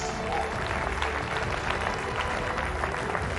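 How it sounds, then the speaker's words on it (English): A seated audience at a live event claps for a speaker taking the stage, steady dense applause of many hands, fairly close and continuous with no break. "Can we have a firm round of applause for a man who has taken the internet by storm?"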